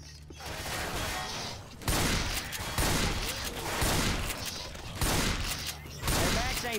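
Rapid bursts of gunfire from the zombie shooter Left 4 Dead 2, loud and dense, recurring roughly every second over steady game noise with faint voice underneath.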